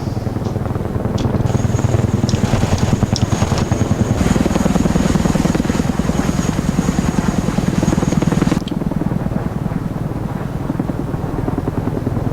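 A CH-47 Chinook tandem-rotor helicopter in the DCS World flight simulator, its rotors chopping in a steady rapid rhythm over a constant engine drone, loud and close throughout, with a high whine in the middle stretch.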